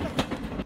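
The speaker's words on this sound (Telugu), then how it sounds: "అయ్యో ట్రైన్ స్టార్ట్ అయింది" A passenger train begins moving, heard as a brief, loud, close rumble of rolling wagons with a couple of soft clunks and no talk.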